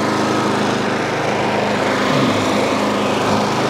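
A Craftsman Quiet Technology snow blower engine runs steadily and loudly up close, a constant droning whine with no break for the whole stretch.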